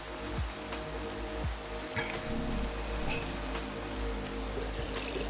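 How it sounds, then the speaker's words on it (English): Steady rain falls in the Minecraft modpack All the Mods 10, a continuous hiss of drops with a few faint clicks and low ambient tones underneath, no voices. "let's sleep for the night because this rain's doing me head in"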